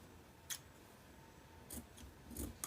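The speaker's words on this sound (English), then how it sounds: "let's cut it out now" Scissors cutting fabric folded for a jacket dress, three or four faint, crisp snips spaced apart over a quiet background.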